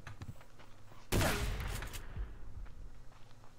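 Pistol gunfire in the Subsistence survival video game: a loud burst of shots erupts suddenly and dominates for about a second, then tails off into quieter game ambience.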